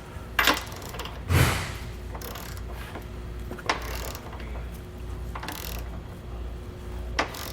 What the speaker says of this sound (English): we're going to come back with our torque wrench here and torque all of our fasteners down